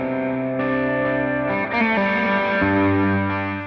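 Heavily overdriven electric guitar through a Landgraf overdrive pedal rings out in sustained, distorted chords, the tone thick and saturated as the notes change.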